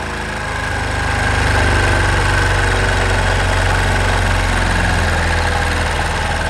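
A Bajaj Discover 100 motorcycle engine idles steadily at high RPM during carburetor adjustment, a close, loud continuous drone with a slight knocking pulse and no talk.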